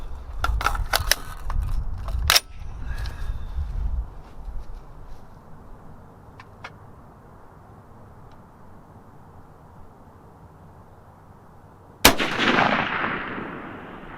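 A rifle fires at a target while testing a Tract Toric 1-8x LPVO scope: a few sharp cracks come early, then one loud, close shot near the end rings out and decays, with no talk.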